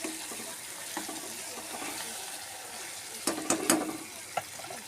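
Eggplant pieces fry in a pan under a faint, steady sizzle, then a burst of louder scraping and clanking from stirring near the end.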